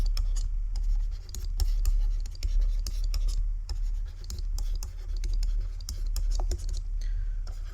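A pen or chalk writing out a maths equation in a class 7 algebra lesson, with quick scratchy strokes and taps in irregular bursts over a low steady hum.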